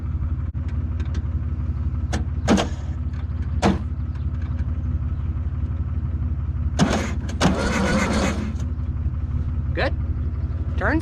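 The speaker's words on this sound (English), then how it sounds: "Go check out the motor. See if the motor turns." A 1970 Volkswagen Beetle found sitting in a field has its engine turned over by hand, while a constant low rumble from a nearby running engine continues throughout, broken by brief clanks and scrapes and a few spoken voices.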